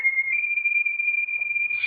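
A single sustained whistled note, thin and steady, held for a couple of seconds over near silence in an old-time radio thriller, with a faint breathy edge at the end.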